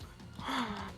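A person lets out one sharp, breathy gasp close to the microphone during a tabletop role-playing game session.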